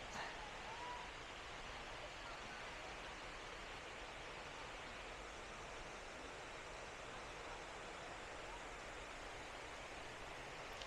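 A waterfall in the Maredumilli forest pours steadily, a broad, even rush of water that stays at one level throughout with no talk over it.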